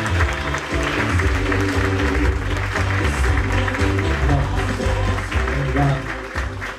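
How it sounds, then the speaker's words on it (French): An audience applauds at a radio station's award ceremony, a sustained wash of clapping that carries on for several seconds while music plays loudly underneath. "Avec vos applaudissements."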